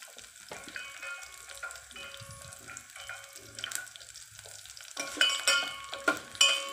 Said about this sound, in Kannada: ಉದ್ದಿನಬೇಳೆ ಇಷ್ಟನ್ನು ಹಾಕಿಬಿಟ್ಟು ನಾವು ಫ್ರೈ ಮಾಡಬೇಕು ಇದು ಒಗ್ಗರಣೆಗೆ